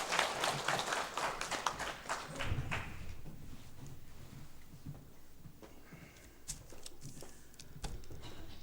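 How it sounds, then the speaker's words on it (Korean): Church congregation clapping to welcome a pastor during a Sunday morning service, a dense burst of handclaps fading after about three seconds into scattered claps and room noise. "우리 한번 박수로 환영해 주시면 감사하겠습니다"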